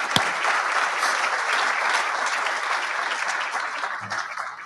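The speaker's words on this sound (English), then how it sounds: "And another round of applause for all our award winners," Audience applause for award winners at a Marine Corps Association luncheon, a loud, full burst of clapping that stays dense before tapering off near the end.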